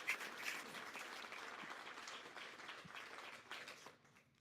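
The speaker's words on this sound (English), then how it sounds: "I ask you to applaud Father Vienne and his customer." A church conference audience applauds a priest, giving a soft, steady patter of many hands clapping at moderate distance that thins out and fades near the end.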